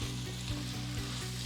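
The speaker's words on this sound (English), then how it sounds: "And now I'm going to put the chorizo in." Chorizo frying in a hot pan for Spanish patatas riojanas, a loud continuous sizzle with a steady crackle, close up, with a faint low rhythmic hum beneath.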